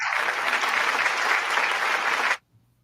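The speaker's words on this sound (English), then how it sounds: "Malcolm, do you have the hand clap on tap?" A canned hand-clap applause sound effect played on cue, a burst of crowd clapping that runs steadily for about two seconds and then cuts off abruptly into near silence.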